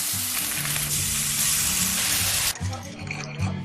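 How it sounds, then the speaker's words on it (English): Food sizzling on a hot grill, a loud steady hiss that breaks off briefly and then resumes, with faint voices underneath. "sizzling grills"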